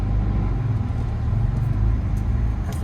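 A manual-transmission car pulls away after the clutch is let in, its engine giving a low, steady rumble from inside the cabin with no voices.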